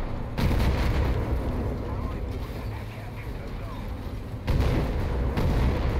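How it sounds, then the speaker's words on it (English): Artillery strikes in the War Thunder tank game, heavy booming impacts rumbling through dense battle noise, with a fresh loud burst near the end. "Artillery strikes coming in"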